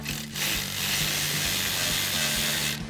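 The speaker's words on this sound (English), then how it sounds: "now we'll grab our 15mm swivel socket and extension on our ratchet" A ratchet fitted with a 15mm swivel socket and extension tightens a bolt while installing an Amp Research BedStep on a 2019-2024 RAM 2500 truck, giving a close, steady run of rapid clicking for nearly three seconds with no talk.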